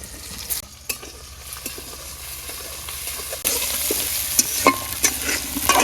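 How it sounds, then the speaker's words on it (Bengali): Shrimp and chopped onion hit hot oil in a kadai, sizzling loudly and steadily, with scraping stir strokes and a sharper hiss building in the second half. "চিংড়ি মাছ দিয়ে দিলাম"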